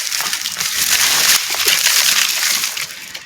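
Water poured onto hard, dry garden soil during a home-garden taro harvest, heard up close as a continuous sloshing, splattering rush lasting about three seconds with no voices.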